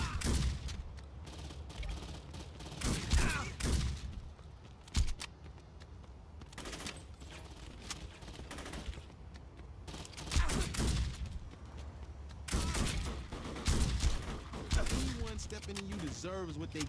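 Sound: gunfire in video game Saints Row 2

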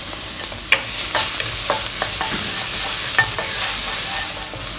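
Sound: chopped garlic frying in pan at medium heat

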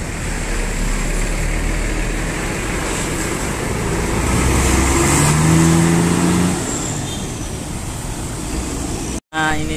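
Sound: Murni Jaya 137 bus entering Pondok Pinang terminal

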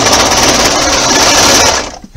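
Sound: sewing machine stitching a ribbed thumb hole cuff

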